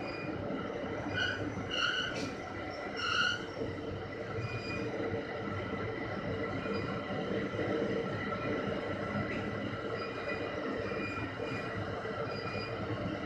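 An exo commuter train on the Montréal–Saint-Jérôme line rumbles steadily past for the whole stretch, a continuous broad roar with faint wheel screech, heard from nearby.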